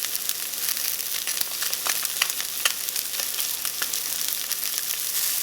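Salmon frying skin side down in a pan, giving a loud, steady, close sizzle with fine crackling pops throughout and no talking.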